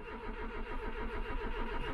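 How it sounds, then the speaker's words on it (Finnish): Japanese car engine turning over and starting in cold first-snow weather at a cottage, a steady mid-pitched running rumble close by with no talk. "laitetaan täältä nipponi käyntiin"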